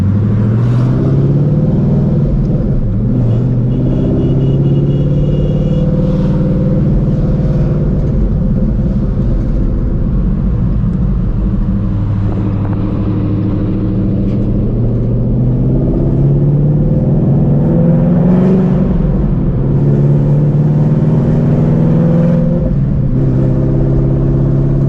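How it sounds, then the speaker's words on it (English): A supercharged 800 hp Shelby GT350 Mustang with a new exhaust rumbles and revs, deep and loud up close, engine pitch rising and falling through several throttle pulls with a blower whine layered over the drone. "I still hear the blower"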